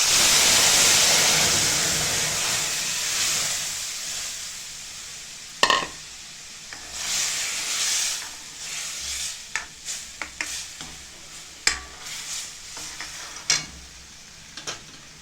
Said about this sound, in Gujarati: મરચાં આપણે સતળાઈ ગયા છે હવે એમાં આપણે આ બેટર નાખી દઈશું